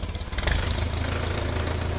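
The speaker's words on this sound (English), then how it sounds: "a good running little tractor though." An Oliver 60 small tractor engine runs steadily at a low idle, its throbbing mechanical chug continuous throughout, close and fairly loud.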